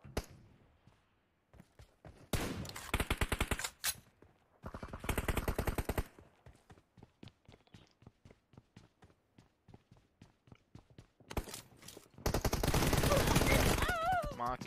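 Gunfire in a PUBG Mobile (BGMI) 2v2 team deathmatch: scattered single shots and several loud bursts of rapid automatic fire, with players talking between the volleys.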